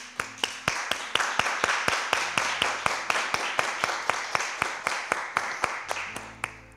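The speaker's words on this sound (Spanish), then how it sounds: "Regalarle un aplauso a Laura." Steady, rhythmic clapping at a Christian testimony interview, roughly three to four claps per second, fairly close and even, with a faint low tone sustained underneath.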